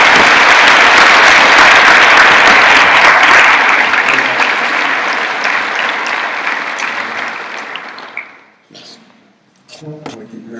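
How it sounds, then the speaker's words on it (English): Loud, dense audience applause fills a university auditorium as a guest is called to the stage, holding steady before thinning and fading out, with a few voices and scattered claps at the end. "I hope you guys are ready to clap."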